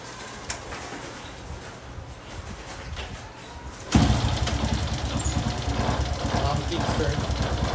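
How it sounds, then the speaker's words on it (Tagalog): A Honda Wave 125i motorcycle engine kickstarts near the midpoint and settles into a steady, loud idle after a quieter stretch of background rumble. "sound check natin yung motor."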